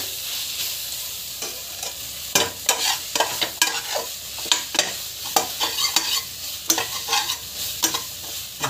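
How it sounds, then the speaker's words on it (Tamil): Masala cooking in a pan with chili powder, green chili and curd added, with a constant sizzle broken by repeated sharp scraping stirs in an uneven rhythm and no talk. "நல்லா வதக்கிட்டுக்கோங்க"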